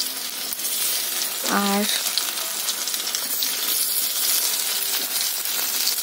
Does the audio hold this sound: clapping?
no